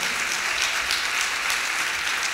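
A church congregation at a festival service applauds the Lord with a dense, steady roar of clapping, loud and close, with no pause.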